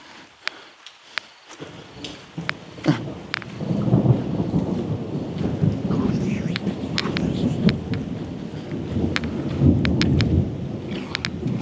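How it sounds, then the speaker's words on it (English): Deep thunder rumbles and rolls in the distance over steady rainfall, with sharp drip-like clicks scattered through the storm. "Yo, that was a big lightning strike."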